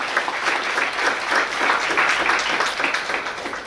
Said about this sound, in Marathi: देवीदास शंकर आमोणकर यांच्याकरता जोरदार टाळ्या होत्या.